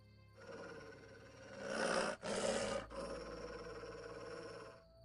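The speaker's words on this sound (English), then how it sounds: "That dog seems to be looking for something." A dog growls in The Witcher: Enhanced Edition, a low, throaty rumble held for several seconds, swelling louder near the middle with a brief break, close and alone with no talk.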